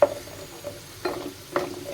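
Crispy spiral potato snacks fry in hot oil with a low sizzle, broken by a few sharp clinks or stirring scrapes, heard close with no voices.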